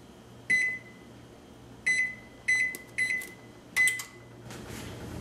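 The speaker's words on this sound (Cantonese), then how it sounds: "我哋預熱個焗爐先啦。" An oven's control panel beeps five times in short, clear tones with uneven gaps as it is set to preheat for roasting a lamb rack, with quiet kitchen hum underneath.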